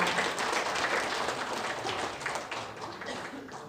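A crowd applauds steadily at a council meeting and inauguration ceremony in Jeju City, with dense clapping, fairly loud and sustained, slowly tapering toward the end.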